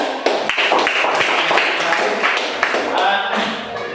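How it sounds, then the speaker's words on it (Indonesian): A class of schoolchildren claps their hands in an Indonesian classroom, sharp irregular claps from many hands, fairly loud and close, with young voices mixed in. "Tepuk tangan"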